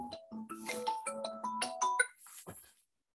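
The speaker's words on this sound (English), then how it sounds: "Sorry, 1 second, I switch off the phone." Phone ringtone playing a bright, stepped electronic melody of short tones for about two seconds, then cut off abruptly as the phone is switched off, leaving silence.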